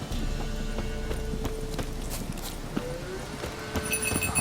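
Goat hooves trot in The Witcher 3, a rapid pattering of hoofbeats over a steady game ambience, with faint tonal sounds in the background and no talk.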